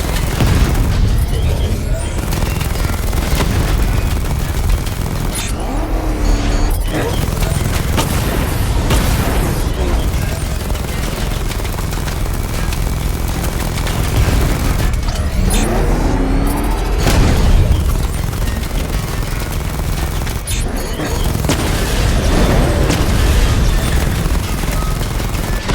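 The Batmobile's level 2 secondary weapon barrage in Batman: Arkham Knight hammers out a relentless, loud stream of booming blasts and explosions, with several heavier surges across the stretch over a constant rumbling engine bed.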